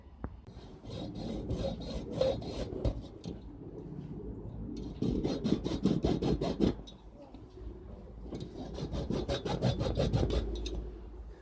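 A capacitor from a Topward 6306D lab power supply is being cut open with a saw or file: bursts of gritty rasping strokes, close and moderately loud, with short pauses between them.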